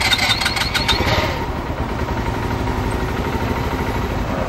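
A motorcycle engine at a motorcycle festival is cranked with its electric starter: brief whirring clicks, then it catches and settles into a steady, close, rumbling idle.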